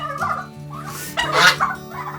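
Turkeys on a farm in severe cold gobble in several rapid, warbling bursts, close and fairly loud, with short pauses between calls.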